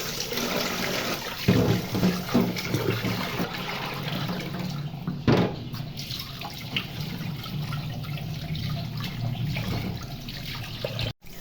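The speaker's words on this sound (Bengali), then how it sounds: "এবার মাছগুলোকে ২ থেকে ৩ বার ধুয়ে নিচ্ছি" Hilsa fish pieces being rinsed under running water, with a steady tap flow, splashing and a few sharp handling knocks, no talk.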